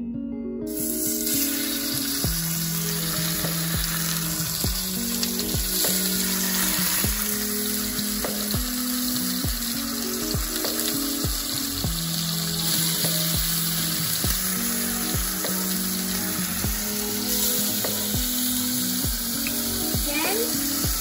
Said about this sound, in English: Start adding the bacon.